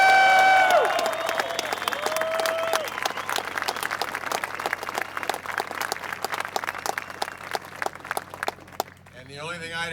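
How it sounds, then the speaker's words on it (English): A crowd at a USO show in Baghdad breaks into sustained applause of dense, steady clapping. It starts under a few fading tones and carries on to a brief voice at the end. "Let's hear a big round of applause."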